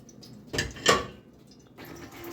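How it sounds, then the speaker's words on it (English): Goat cheese curds are poured from a large pot into cheesecloth, landing in two quick wet splashes, followed by quiet trickling and dripping. "I'm just going to pour my curd off."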